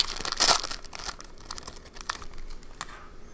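Foil hockey card pack wrappers from 2016-17 Upper Deck Black boxes crinkle close by while cards are flipped, starting with a sharp loud rustle and then lighter intermittent crackles and taps, with no talking.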